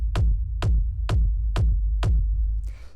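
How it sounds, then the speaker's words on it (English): A techno rumble kick drum sample strikes five times at a steady, even pulse, each hit a deep booming thump with a short click on top and a rumbling low tail, loud and alone, with a brief noisy swell at the end. "So this is a rumble kick."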